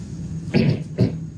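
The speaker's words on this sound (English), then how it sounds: "sometimes I cough when I don't really have a cold" A person coughs twice, a short burst followed by a second one, close and moderately loud in a quiet lecture room with no talking.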